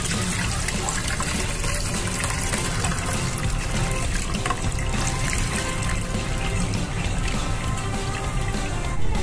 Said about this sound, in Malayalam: നമുക്ക് അരിച്ചെടുക്കാം.